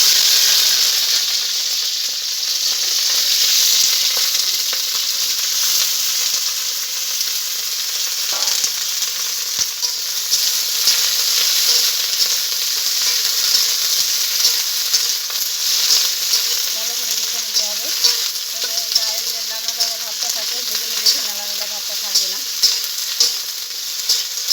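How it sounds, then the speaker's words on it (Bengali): Sliced okra fries in hot oil in a home kitchen, giving a continuous loud sizzle and hiss. Occasional stirring scrapes and soft clinks from the pan come through over the sizzle. "এবার কেটে রাখা ভেন্ডিটাকে আমি ভেজে নেব।"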